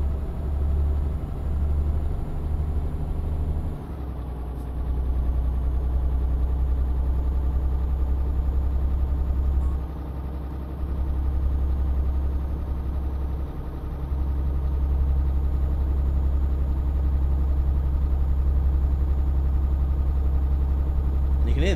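A truck engine in Euro Truck Simulator 2 idles low and steady, dipping briefly a few times before settling back into a constant hum with a faint high turbo whine.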